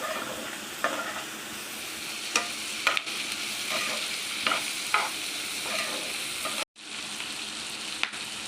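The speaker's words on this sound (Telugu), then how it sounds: "ఇది ఒకసారి ఇలా బాగా ఫ్రై చేసేసుకోవాలి" Vegetables fry in a pan for creamy white sauce pasta, a steady close sizzle punctuated by repeated spatula stirs and clinks, with a brief cut near the end.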